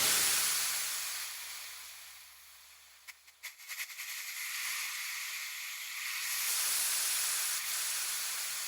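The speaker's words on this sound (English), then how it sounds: "that changed when the machine started hissing after a while" A steady, broad hiss of escaping steam from the steam engine of the first Dutch car swells and fades, with a brief clattering pulse midway and a faint low hum at the start.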